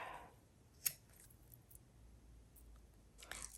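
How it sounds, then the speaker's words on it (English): A ribbon end trimmed on a junk journal: one crisp close scissor snip, then faint handling clicks and another soft snip at the end, with no voices. "cut that end short"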